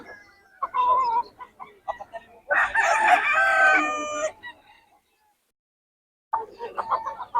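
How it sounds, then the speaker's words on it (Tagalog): Roosters crow and chickens cluck nearby in short bursts at a chicken sale in Bocaue, with one long loud crow in the middle and quiet gaps between calls. "25 lang mga manok ni Boss Joey"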